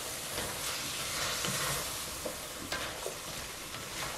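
Mondongo stew with carrot and two bay leaves is stirred in a pot, a soft steady sizzle and hiss running underneath light scraping strokes of the utensil.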